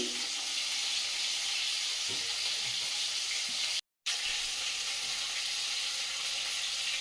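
Continuous hissing sizzle of fish frying in oil, close and steady, with a brief cut near the middle.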